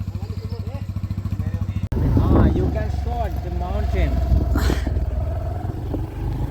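A motorcycle rides along a mountain village road in Arunachal, its engine putting out a close, steady pulsing rumble, briefly cut and then rising again, while people talk over it.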